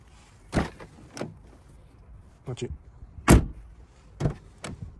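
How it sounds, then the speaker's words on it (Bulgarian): Car doors on a BMW X5 shut with several solid thuds spread across a few seconds, close by, with a person talking in between. "Значи много ме кефи как се затварят вратите."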